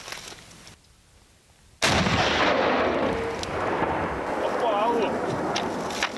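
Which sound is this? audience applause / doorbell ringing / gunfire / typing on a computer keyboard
gunfire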